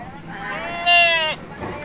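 A sheep being delivered by hand bleats loudly and close by, its wavering call rising into a strong central cry over a faint background murmur.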